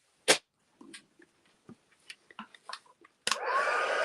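After a few light clicks of tweezers, a papercraft heat tool switches on and blows a loud, steady rush of hot air over a handmade card, continuing to the end.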